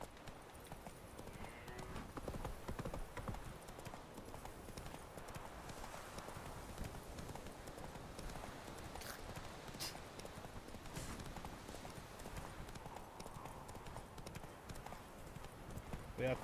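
Horse hooves clip-clop steadily in The Witcher 3, faint and continuous beneath game sounds and a player's occasional talk.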